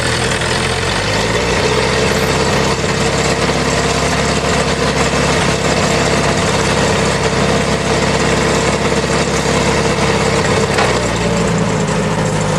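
A Western Material Handling forklift runs steadily with a loud, droning engine as its mast is raised, the tone holding constant throughout with no voices.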